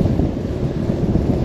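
Strong headwind roaring across a cyclist's action camera on a long road stage in the Loire valley, a loud, continuous low rumbling buffet with no voices, steady for the whole stretch.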